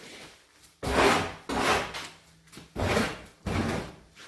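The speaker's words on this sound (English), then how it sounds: "Just going to scrape a little bit of this core out." Rotten core being scraped out of a wooden boat hull during restoration: four loud, rasping scrape strokes in a steady rhythm, each lasting about half a second, close up with no talking.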